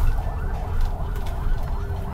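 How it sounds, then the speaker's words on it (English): An ambulance siren wails with a rising and falling tone through busy Jakarta city traffic. It sounds moderately loud and continuous over the rumble of engines. "An ambulance."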